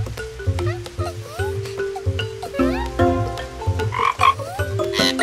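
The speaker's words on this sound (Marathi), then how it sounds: "तूच बेडकाचा आवाज काढलास ना?" Cartoon frog croaking repeats in a lively, bouncy pattern, loud and close, with overlapping warbling croaks and some light background sound.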